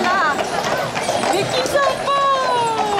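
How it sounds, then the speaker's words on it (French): Draft horse hooves clopping on a street as it pulls a festival cart in a traditional procession, rhythmic and close, under a crowd and a commentator's voice. "avec un premier cheval de trait"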